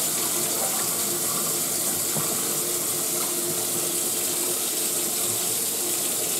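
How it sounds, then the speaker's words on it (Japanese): Electrolyzed water pours steadily from a tap while a monkfish is washed, a continuous close gush and splash with no talk. "電解水で洗って処理してみます"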